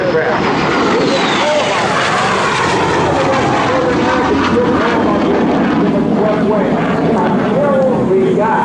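A swept-wing jet aircraft roars past at an air show, a loud, continuous engine rush with a slowly shifting pitch that holds for several seconds at close range.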